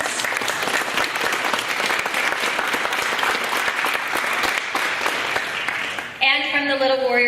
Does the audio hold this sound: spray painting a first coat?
no